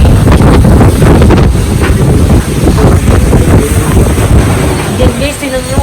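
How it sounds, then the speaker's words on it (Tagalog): Loud, constant roar of Typhoon Ulysses's strong wind buffeting the microphone, with rushing rain and a faint voice underneath. "Yan yung hangin na may kasamang ulan."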